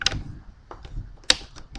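A computer keyboard key is pressed while a Windows 10 services search is run, giving a few light, close clicks with a sharper tap near the end and no talking.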